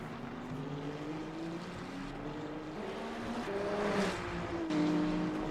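Hypercar and multi-class prototype engines from the sim race Le Mans Ultimate at Bahrain drone steadily with shifting pitch as cars pass and overtake, a continuous mid-distance roar with no voices.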